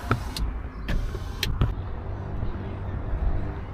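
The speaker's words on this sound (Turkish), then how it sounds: "Evet şu camları kapatalım" A car's electric windows whir closed with a few clicks and thumps, over a steady idling engine hum inside the vehicle.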